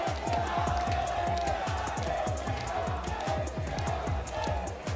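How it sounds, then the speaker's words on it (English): A rowdy, loud crowd fills the arena at the Brawl Stars World Finals esports event, a dense continuous roar of cheering and shouting with rhythmic clapping or stomping underneath. "Oh, we got a rowdy crowd today."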